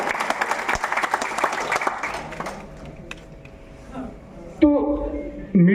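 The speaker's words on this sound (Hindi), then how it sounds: "तो एक बार तालियां होनी चाहिए दोस्तों एमडीआरटी और क्लब मेंबर एजेंटों के लिए।" An audience at an LIC agent training convention in Varanasi claps for MDRT and club member agents, with dense applause that thins out and fades, then a voice speaks over a microphone.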